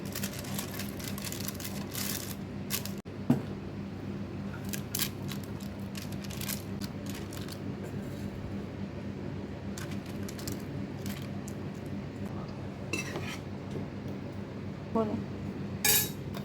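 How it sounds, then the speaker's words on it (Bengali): A steel pressure cooker set into a wok, with scattered metallic clinks and clanks of cookware against metal over a low background rumble, a few sharper knocks standing out near and at the end. "কড়াইতে সিলভার কুকারটা দিয়ে দিলাম।"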